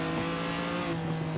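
Ferrari 250 GTO engine in a racing video game, a steady, loud sustained engine drone with a constant pitch, heard alone without any talk.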